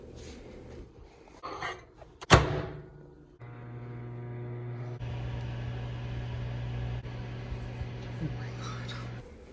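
A microwave oven heating a Peeps marshmallow s'more, its steady low hum running evenly for several seconds after a click and beep, with faint rustling and soft murmuring voices nearby.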